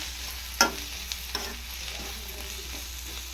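A simple curry cooks in oil on a low flame and gets stirred, with one sharp spoon clank against the pan, a few lighter taps and a faint steady sizzle underneath.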